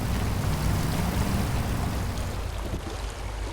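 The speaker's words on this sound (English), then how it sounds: "Just turn the engine off a second." A boat engine runs on the water with a loud, steady rumbling drone mixed with rushing water and wind noise, easing slightly toward the end.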